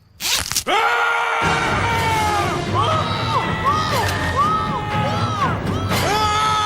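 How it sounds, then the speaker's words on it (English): A man screams loudly and continuously in an animated comedy scene set in the woods, where he is caught in his zipper. The wailing voice rises and falls in long, strained pitch swoops after a sharp opening burst. "you can stop screaming now"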